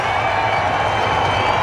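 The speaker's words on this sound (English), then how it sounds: "And the Indian support in the crowd are loving it." Indian cricket fans cheering in the stands at a one-day international match in Perth, a steady, loud wash of crowd roar and applause that holds evenly throughout.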